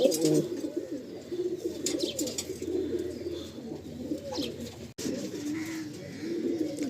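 Andhra pigeons in a Kolkata loft coo continuously, many birds overlapping in rolling, throaty phrases close by, with a brief break near the end before the cooing resumes.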